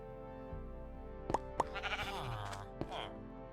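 Sheep bleat in a Minecraft game, a few short wavering calls over a steady background music drone, with a voice talking alongside.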